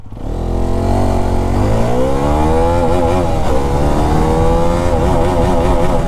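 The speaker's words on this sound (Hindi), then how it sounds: "चलिए, पहला गियर डाल दिया है," A 2025 Hero Xpulse 210 motorcycle accelerates hard from a standstill, its engine note climbing loudly through the gears with brief dips at shifts, close and continuous.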